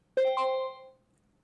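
A trading platform alert chimes on a live NAS100 and US30 session: two quick bright electronic dings, the second overlapping the first, ringing out clearly and fading within a second against near silence.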